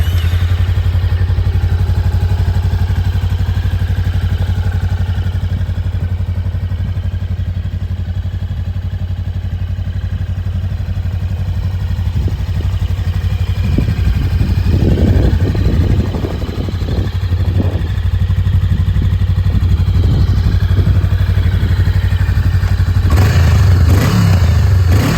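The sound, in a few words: Honda Rebel 500 motorcycle engine starting and idling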